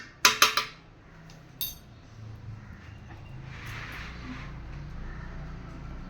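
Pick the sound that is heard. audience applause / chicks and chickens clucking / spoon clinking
spoon clinking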